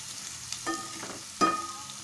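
Chickpeas roasting in a pan for spicy chana, a soft low sizzle with two distinct stirring scrapes, close and fairly quiet.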